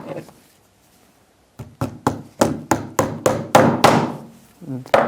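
A hammer drives small nails, a brief knock followed after a pause by a quick run of about ten sharp, evenly spaced strikes, close and loud.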